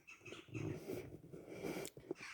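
Dogs outdoors in the morning at Nakhlamud, with growling, breathing and close snuffling sounds that keep going for about two seconds, rising and falling in loudness.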